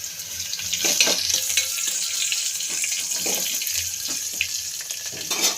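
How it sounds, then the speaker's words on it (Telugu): Dried red chilies and garlic cloves frying in hot oil give a steady close sizzle and crackle throughout, with occasional sharper pops and no talking. "ఎండుమిర్చి, వెల్లుల్లి రెమ్మలు వేస్తున్నా"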